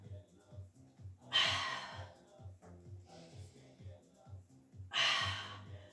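Two strong, breathy intakes of breath come during a Pilates exercise, each loud and drawn out, with quieter breathing between them over a soft, steady rhythmic music beat.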